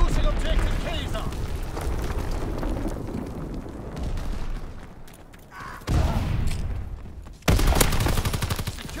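Heavy blasts and gunfire from a Call of Duty WWII multiplayer domination match on Pointe du Hoc, a dense rumbling barrage with two sharp loud explosive bursts near the end, mixed with in-game voice announcements.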